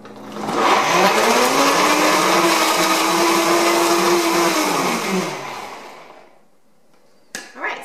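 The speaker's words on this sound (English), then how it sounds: "So just blend this up and we'll be done with the sauce part." A blender whirs loudly and steadily for about five seconds while puréeing a salted sauce for stuffed poblanos, then winds down to quiet before a sharp click near the end.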